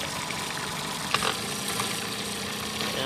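Mercury 9.9 hp Bigfoot outboard motor idling steadily with a low, even hum, broken near the middle by a brief clunk as it is shifted between forward, neutral and reverse.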